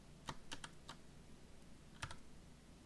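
Computer keyboard keys are pressed for a shortcut in a few quick clusters of close, faint clicks, with quiet gaps between them and no talk.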